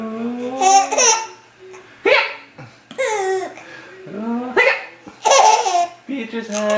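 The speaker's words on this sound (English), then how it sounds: "Oh, hiccup!" A baby hiccups repeatedly between bursts of bright, squealing laughter, up close and loud, with an adult's voice chiming in.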